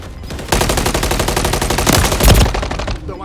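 Sustained rapid automatic gunfire from Call of Duty: Modern Warfare 3 multiplayer on the Estate map, loud and close, with dense overlapping bursts running almost the whole time.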